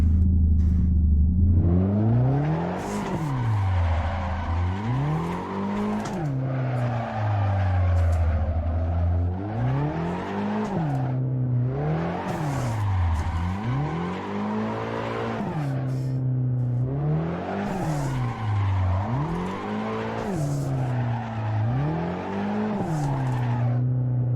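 Car engine in the Assetto Corsa driving game, rising and falling in steady cycles as the throttle goes on and off while drifting, with tire squeal layered over the loud revs.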